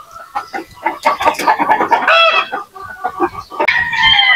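Chickens clucking close by in a farmyard, a steady run of overlapping clucks and squawks with a few louder, drawn-out calls, and no talk.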